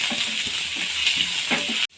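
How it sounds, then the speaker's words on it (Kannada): Onion and green peas frying in a pan give off a dense, steady sizzle with faint stirring scrapes, loud and close, cutting off abruptly near the end. "ಈಗ ಬಟಾಣಿ ಎಲ್ಲ ಫ್ರೈ ಆಗಿದೆ."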